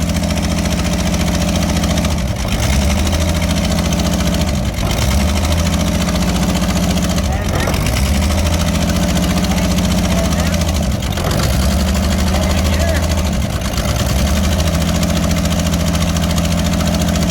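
A restored 1965 Ford Mustang engine idles steadily and loudly up close, a continuous low rumble with faint periodic dips, while people talk nearby.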